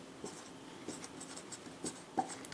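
Writing out a definition during a math lesson, faint scratching strokes with a few light taps, heard close up and alone.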